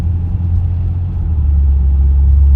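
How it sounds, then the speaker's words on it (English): A 2011 BMW 328i engine runs with a loud, steady low rumble that swells slightly toward the end, close and alone without any talk. "The engine is way more smoother, and just, I don't know, more punchy."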